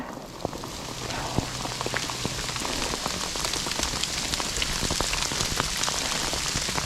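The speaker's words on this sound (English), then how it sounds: "That is hail." Hail falling outdoors along the coastal Portuguese Camino, a steady dense patter of small impacts on surfaces with scattered sharper ticks, continuous throughout.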